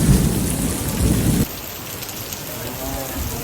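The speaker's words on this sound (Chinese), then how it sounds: "哦，这暴雨好嗨呀！" A heavy tropical rainstorm with thunder in Penang, Malaysia, pours down as a loud, dense, continuous roar. A deep rumbling swell fills the first second and a half, then the downpour carries on alone.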